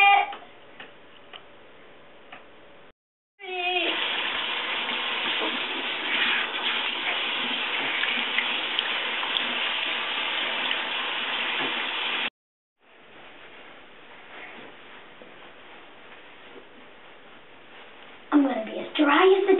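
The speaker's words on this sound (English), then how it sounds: "I just washed my hands." Hands being washed under a running tap, a steady broadband rush of water lasting several seconds, then a short pause and a second, quieter stretch of running water, with brief voices at the start and end.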